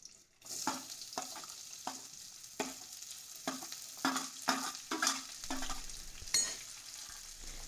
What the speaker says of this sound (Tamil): வெங்காயத்தை ஆட் பண்ணிவிட்டு நல்லா வதக்கிக்கலாங்க.